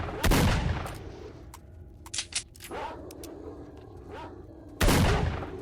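Gunfire in S.T.A.L.K.E.R.: Shadow of Chernobyl: a loud, sharp shot opens, a few scattered smaller cracks follow, then another heavy blast near the end, over a steady rumbling outdoor background.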